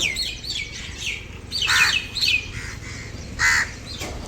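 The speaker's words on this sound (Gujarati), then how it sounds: "બખાડા બખાડા કરી મૂક્યા કાબરો અને કાકડાએ." Common mynas and crows call nearby in sharp chirps and squawks, with several louder bursts standing out against a low background hum.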